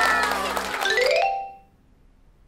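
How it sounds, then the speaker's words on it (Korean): A cartoon classroom of children applauds for Minji, a short bright burst of clapping over a light musical sting that quickly dies away into silence. "자, 모두 민지에게 박수"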